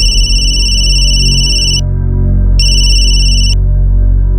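A phone call ringing out, loud electronic ringback tones in two bursts separated by a short gap, steady and close.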